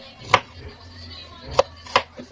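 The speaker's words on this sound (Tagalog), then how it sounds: "hiwain naman natin ang ating kamias" Knife slicing kamias (bilimbi fruit) into round pieces for fish paksiw: three crisp cuts through the fruit onto a board, well spaced, close and fairly loud over a quiet background.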